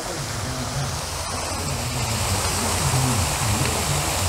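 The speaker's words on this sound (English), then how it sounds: "first greets us is the waterfall." Water pours continuously from a waterfall fountain in Spanish Springs Square, a steady hissing rush close by, with faint background murmurs and light knocks but no clear talking.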